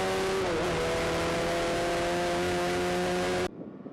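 Race cars in an NI Sevens Challenge race at Kirkistown circuit pass the start-finish line with a loud sustained engine drone and a slight pitch shift. The drone cuts off abruptly near the end, leaving faint ambient noise.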